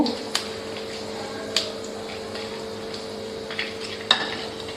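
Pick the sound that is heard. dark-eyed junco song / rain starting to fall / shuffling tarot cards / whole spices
whole spices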